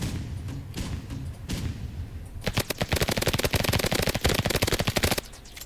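Rapid Uzi gunfire in a first-person video game, a fast burst of sharp repeated shots after a few scattered thuds, loud and close with no talking over it.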